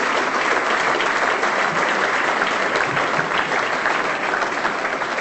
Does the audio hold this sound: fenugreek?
no